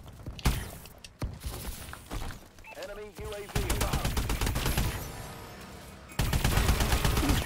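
Rapid bursts of gunfire in the futuristic shooter Call of Duty: Advanced Warfare, sharp repeated shots and automatic volleys in uneven clusters, growing denser toward the end, with players talking over the action.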